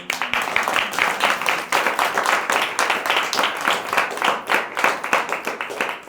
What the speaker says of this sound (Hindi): चलो जोर से प्रभु को ताली बजाएंगे।